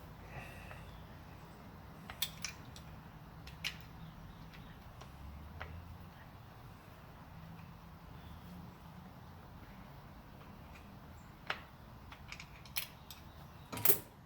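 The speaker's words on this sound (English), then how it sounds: "Taking off these two top screws right here in the back." Quiet, sparse metallic clicks and small ticks come from a screwdriver backing two top screws out of the rear of an Airow Gun air rifle, near and faint, with pauses of near silence between them.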